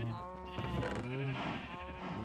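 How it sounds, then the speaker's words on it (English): Sheep in Minecraft give a couple of wavering, nasal bleats close by, sounding alone and filling the short moment. "Hey, sheep, you want to get sheared?"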